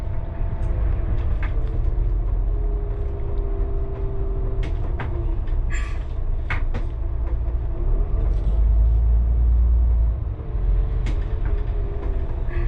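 An Elektron bus drives through stop-and-go city traffic, its engine and body giving a heavy, continuous low rumble with rattles and clunks from the cabin, rising and falling as it accelerates and slows.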